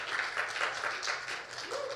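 A church congregation claps together during a Sunday worship service, a steady, moderately quiet wash of applause that goes on without a break for the whole short stretch.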